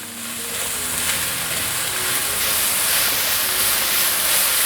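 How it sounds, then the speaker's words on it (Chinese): Shiitake mushrooms stir-fried in a pan give a continuous, close, loud hiss and sizzle that holds steady throughout with no talking. "现在放入香菇，快速翻拌，把香菇炒香炒软"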